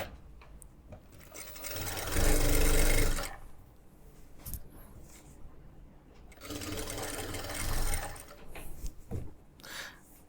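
A sewing machine stitches a cut fabric band in two runs of fast, rattling whirs, with quieter handling and fabric rustle between them, close to the microphone.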